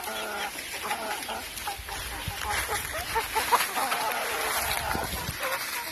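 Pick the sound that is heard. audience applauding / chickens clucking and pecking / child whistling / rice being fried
chickens clucking and pecking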